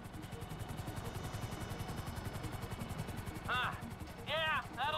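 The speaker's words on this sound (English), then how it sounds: "Just hold the chopper here." A helicopter's rotor thuds steadily at a low, even pulse while hovering in Grand Theft Auto V, with short bursts of higher electronic chirps near the end.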